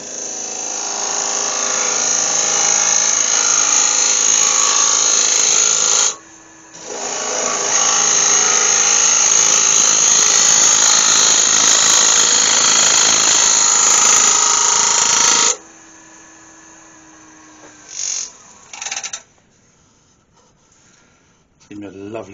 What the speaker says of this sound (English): What I'm going to do is just go in there with a small scraper